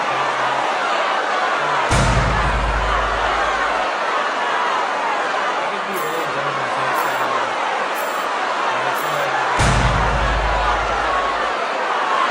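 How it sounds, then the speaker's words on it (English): A UFC arena crowd in Mexico City murmurs and rumbles, with a broad booing swell rising twice above the steady hubbub while a commentator talks over it. "Oh, the crowd doesn't like that."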